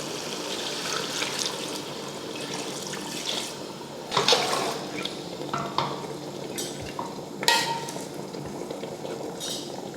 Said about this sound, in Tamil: இந்த கிண்ணத்தில் 1/2 கிண்ணம் தண்ணி சேர்த்துக்கிறேன்